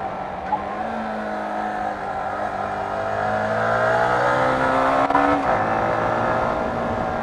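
A Yamaha R15 motorcycle engine drones loudly and continuously while cornering on a bumpy road, its revs climbing gradually and then dipping briefly near the end, with no talking.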